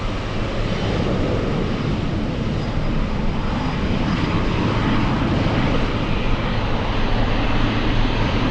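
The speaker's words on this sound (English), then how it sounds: "We have a Delta 737 taxiing on Sierra." A Delta Boeing 737 jet taxiing at an airport gives a steady, loud, broadband engine roar with a low drone and whine, constant throughout with no talk.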